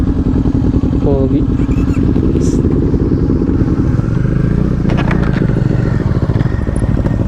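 Large 400cc motorcycles, a Kawasaki NK 400 and a Bajaj Dominar 400, at a parking spot, with loud, steady close engine rumble throughout and a brief spoken word over it.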